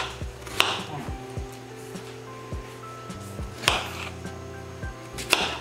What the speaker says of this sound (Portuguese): Quero picar tudinho pra vocês verem